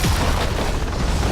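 A loud, booming burst with rumbling low end as a tower is knocked down in a League of Legends match, one short heavy explosion filling the moment.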